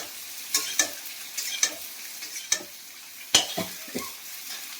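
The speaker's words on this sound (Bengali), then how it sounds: "ফুলকপি ভাজা হচ্ছে।" Cauliflower and potato fry in oil seasoned with panch phoron and dried red chilli, a sizzling hiss punctuated by a series of sharp scraping strokes as a utensil stirs the pan, close and without talk.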